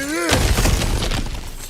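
Cracked ground smashed open in God of War Ragnarok, a sudden loud shattering crash followed by tumbling, crumbling debris that fades over a second, with a brief musical tone ringing just before the impact.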